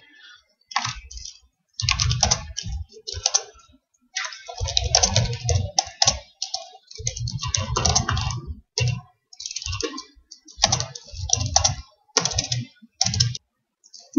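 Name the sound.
typing on a computer keyboard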